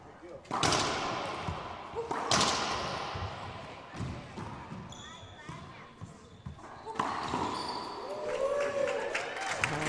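At a pickleball final at the 2021 Christmas Classic in Maryland, a full-house crowd cheers and applauds in loud bursts. Paddle and ball thuds come between the bursts, and a commentator talks over much of it.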